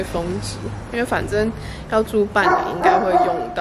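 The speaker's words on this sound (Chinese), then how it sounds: "现在有一只狗在叫" A dog barks repeatedly nearby in a residential area in Spain, sharp yaps recurring through the clip while a person keeps talking over them.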